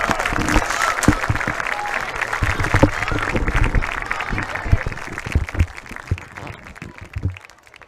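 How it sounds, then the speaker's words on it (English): Sustained applause from an audience in a school gymnasium honoring Hall of Fame inductees at a high school sports event, dense clapping filling the space with a few voices mixed in before it tapers off. "how about one more nice round of applause for this year's Hall of Fame inductees"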